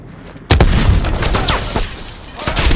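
A grenade detonates in the video game Call of Duty Cold War with a sudden loud, close boom after a quiet moment, followed by a rumbling tail and scattered further blasts and shots.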